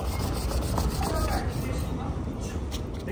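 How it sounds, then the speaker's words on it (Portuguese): Cloth rubbing over a bicycle frame before painting, a close, continuous scrubbing and rubbing sound with voices talking in the background. "Só passar um paninho aqui, galera."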